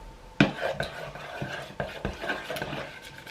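A spoon scrapes and clinks around a bowl in quick, irregular strokes as hamburger steak sauce mix is stirred with water, close by and fairly quiet.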